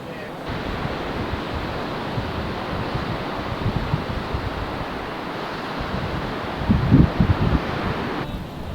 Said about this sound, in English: It's been really windy. It's always windy here